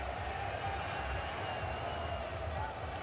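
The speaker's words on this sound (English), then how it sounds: "The crowd are happy." A cricket crowd at a South Africa versus Australia Test match in 2009 gives a steady, broad roar of cheering that holds at an even level throughout.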